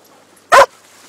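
A dog gives a single short, sharp bark on a beach, loud and close, with quiet surroundings before and after.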